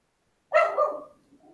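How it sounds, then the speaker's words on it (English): A dog barks once or twice in the background during an online algebra math lab session, a short sharp burst that trails off quickly, fairly distant and heard on its own. "Is that your dog in the background?"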